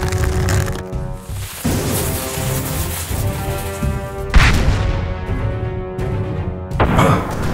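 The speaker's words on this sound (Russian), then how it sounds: "Я слышу какой-то взрыв." Booming blasts go off over a noisy, rumbling background, each with a crackling tail. Two of them stand out clearly.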